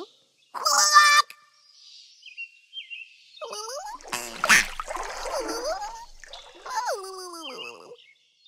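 A duck quacks in short nasal bursts, several separate calls spread across the stretch, loud and close, with a splash of water and gaps of silence between calls.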